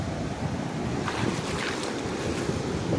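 Sea surf at a beach in Mangalore at low tide, a steady broadband wash of waves with wind rumble against the microphone, continuous and fairly close throughout.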